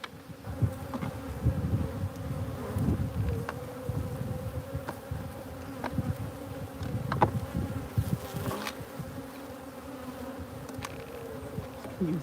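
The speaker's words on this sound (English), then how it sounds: "There's so many bees over here now" Dense swarm of honeybees buzzing steadily around an opened hive during a honey harvest, a continuous close drone with individual bees zipping past, no talking.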